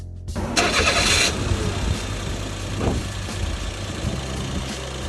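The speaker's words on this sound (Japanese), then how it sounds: "実際にエンジンをかけて音を聞いてみましょ" A car engine with a modified intake cranks briefly with a whirring starter, catches, and settles into a steady, rumbling idle nearby.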